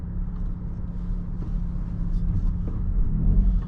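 A 2020 Honda Civic Si driving, heard from inside the cabin as a steady low engine and road rumble that builds slightly louder toward the end.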